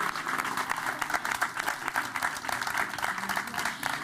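An audience at an evening stage show, Cantamare 2024, breaks into dense, sustained applause, many hands clapping together at moderate distance with a few faint voices beneath.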